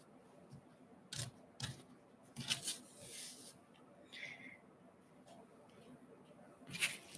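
Quilting fabric being cut into half-square-triangle pieces for a basket block, heard as a few sharp, quiet snips and cutting scrapes spaced out over a hushed room.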